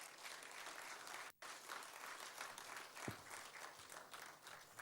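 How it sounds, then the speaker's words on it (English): Sustained audience applause at a Nigerian upstream oil industry cost optimization programme event, steady and dense throughout with a brief drop near the middle. "I think the GMD deserves another round of applause."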